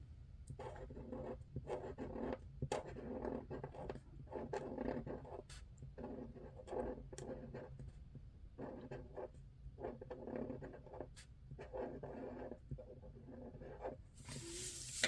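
A pen writes in a Classic Happy Planner, up close and quiet: steady scratching strokes in short rhythmic bursts across the paper, with no talking, then a brief louder rustle at the end.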